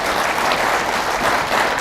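A crowd at a neurosurgery endoscopic conference presentation breaks into applause, a full, steady roar of many hands clapping at close range, continuous for the whole moment without speech.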